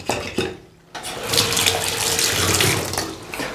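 Very hot water runs from a tap down a drain in continuous, loud, close splashing rush, briefly quieter near the start before flowing steadily.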